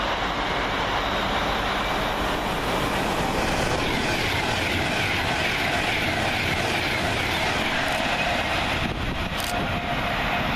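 A class 390 electric train, unit 390-016, passes through Milton Keynes Central station at speed, a loud, steady roar and rush of wheels and air that holds throughout without easing.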